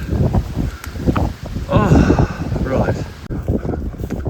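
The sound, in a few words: wind blowing into microphone while walking into headwind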